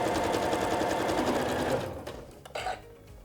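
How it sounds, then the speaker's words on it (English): Sewing machine stitching a quilt facing with a quarter-inch seam, a steady fast motor whir for nearly two seconds that then stops, followed by a few soft handling clicks. "we're gonna sew down the length of this with a 1/4 inch seam"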